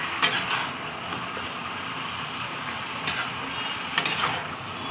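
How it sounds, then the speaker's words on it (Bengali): Vegetables and stalks being stirred in a pan for a chorchori, a steady soft sizzle with a few brighter scrapes and clinks of the spoon against the pan, close and without speech. "এটাকে নাড়িয়ে নাড়িয়ে নাড়িয়ে নাড়িয়ে নাড়িয়ে এটাকে আস্তে করে নিতে হবে জলটা শুষে নেবে"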